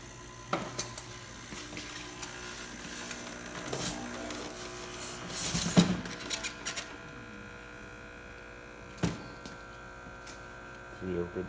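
Quickmill Silvano espresso machine pulling a test shot after a full tune-up with a replaced air valve: low pump hum and quiet hiss with scattered clicks and clunks, moderately close and fairly soft.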